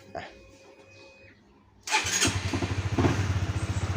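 A Honda CBR150R motorcycle engine cranks and catches, then idles with a loud, steady pulsing thump close by after a quieter mechanical lead-in.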